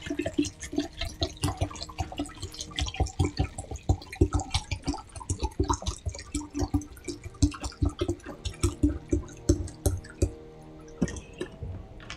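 Water pours from a Fiji bottle into a large cup, with irregular glugging splashes and dripping close by, likely over ice, continuing for several seconds.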